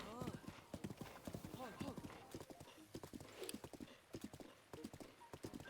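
Galloping horse hooves from Zelda: Breath of the Wild pound in a fast, steady rhythm, close and continuous, while someone talks over them and a whinny-like call rises briefly.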